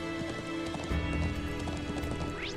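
Horse hooves clip-clop at a steady trot in the video game Trails Into Reverie, close and moderately loud over game music and ambient noise, with no talking.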